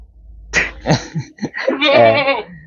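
Etawa crossbred (PE) goat giving several close, loud bleats in quick succession, the last one drawn out and wavering, with no other sounds around it.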